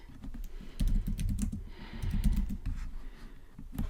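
Keys clacking on a computer keyboard in quick, uneven bursts of typing, close and fairly loud, with no voice over them.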